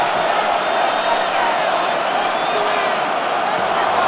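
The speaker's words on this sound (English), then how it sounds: "This crowd into it now as we get to 3rd down." A stadium crowd in the Madden NFL 26 football video game roars in a steady, loud wash of cheering ahead of a third down, with a commentator's voice heard over it.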